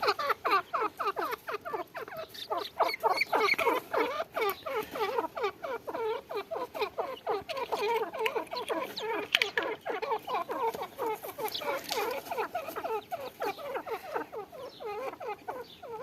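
Busy chirping and chattering calls from several grey francolins, male and female, overlap continuously at moderate volume, a lively chorus with no talking.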